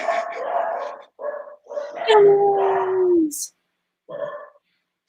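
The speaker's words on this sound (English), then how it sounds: "That's like the thing about dachshunds is they bark at everything." Small dachshunds bark and howl loudly nearby in several yapping bursts, one drawn out into a rising-then-falling howl, while a person briefly speaks over them.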